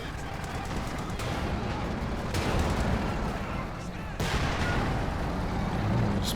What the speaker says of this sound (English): Gives out his next Easy 8 shot